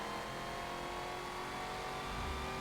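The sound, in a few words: classic muscle car engine revving in a video game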